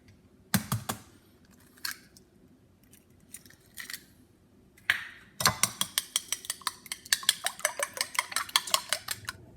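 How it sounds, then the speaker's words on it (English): Two eggs are beaten in a bowl for banana bread: a few scattered clinks, then a quick, steady run of sharp utensil taps against the bowl, close and with no talking. "We're going to beat 2 eggs."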